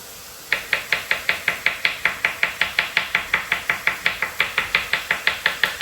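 A knife cuts a bell pepper on a cutting board in a fast, even run of about two dozen sharp, close taps.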